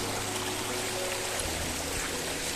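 Water flowing near Nanivali waterfall, a dense, steady rushing wash that stays even and fairly loud throughout, with no voices over it.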